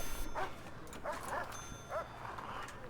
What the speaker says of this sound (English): So Tori, the dog here, is not giving in.